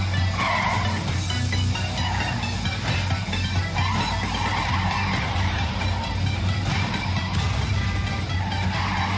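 A truck drives in the video game Clustertruck, producing a steady, loud engine roar with tyre noise that continues without a break and with no talking.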